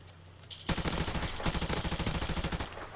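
Automatic gunfire in Call of Duty, a dense rapid burst of close, loud shots after a brief quiet lead-in, continuing almost without pause to the end.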